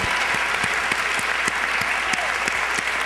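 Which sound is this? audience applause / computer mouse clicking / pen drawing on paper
audience applause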